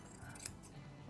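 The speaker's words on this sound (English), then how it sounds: "just taking my scissors and as close as I can get to the foam of the board" Scissors snipping through fiberglass cloth laid over a surfboard, cutting close along the rail next to the foam blank; one short, faint crisp snip stands out against a quiet background.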